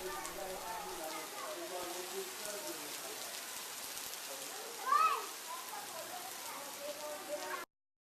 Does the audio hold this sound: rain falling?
yes